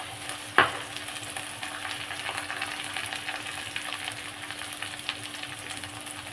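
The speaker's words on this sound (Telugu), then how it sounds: "ఇప్పుడు ఇందులో అరటికాయ ముక్కల్ని వేసుకుందాం" Raw banana pieces go into a hot pan with a thud, then fry with a steady, close sizzle and occasional stirring clicks.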